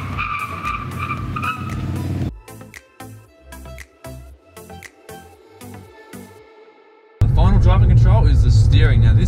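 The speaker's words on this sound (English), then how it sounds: "if you do get on the brakes real hard and you get the ABS going, then this thing's going to stop on a dime" An Audi S1 Sportback on grippy tires brakes hard with ABS engaged, producing loud, close tire squeal and skidding that comes in pulses. The noise breaks into choppy bursts before a final sustained roar.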